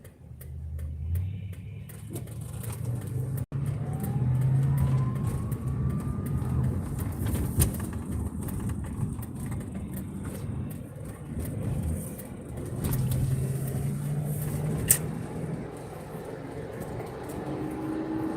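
A non-electric pickup truck cruises along a small-town road in Milton, its low engine rumble and tire noise steady and close throughout, with occasional rattles and clicks from the cab.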